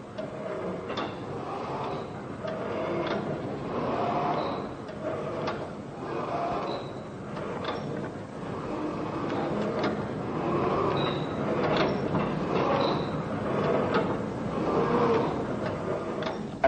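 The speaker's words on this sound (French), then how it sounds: "Il peut alors piloter une machine à dessiner les plans de la carrosserie à l'échelle" A computer-controlled plotter draws Citroën BX car body plans to scale, with steady mechanical ticking and clicking and the brief whir of pen movements repeating throughout at a moderate, even level.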